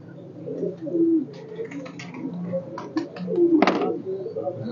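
Racing pigeons cooing, soft low throaty coos repeating at close range amid rustling and a few knocks, with a voice talking faintly underneath.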